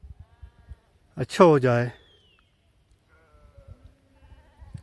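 A single loud sheep bleat from a Bakarwal herders' flock grazing on a hillside at Khonmoh, Srinagar, lasts about a second between brief stretches of quiet talk and low outdoor noise.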